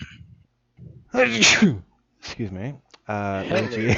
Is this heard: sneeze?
yes